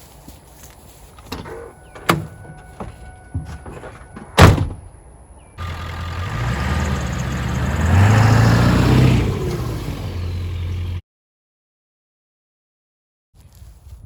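A Ford 7.3 diesel pickup truck gives a door clunk and some sharp knocks, then its engine rumbles steadily as it pulls away, growing louder in the middle before cutting off abruptly into silence.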